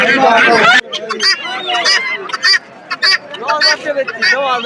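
Geese and ducks at a village poultry market in Sherpur honk in short, loud, repeated calls close by, after a brief stretch of someone talking.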